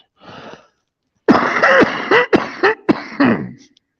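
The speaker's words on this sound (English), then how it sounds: "I always have to cough just after." Someone coughs hard in a rapid, wheezy series of harsh bursts, close up, after a short breathy exhale.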